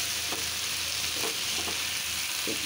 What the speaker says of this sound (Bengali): এখন ভাজির চিংড়ি মাছ দিয়ে বাঁধাকপিটা ঢেলে দিলাম।